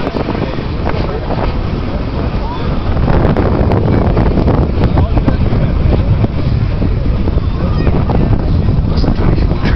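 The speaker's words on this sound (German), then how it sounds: "dass der Wind jetzt so heftig ist im Moment" Strong gusty wind buffets the microphone at an outdoor model airplane flying day, a continuous loud roar and rumble that stays steady and dense throughout with no breaks.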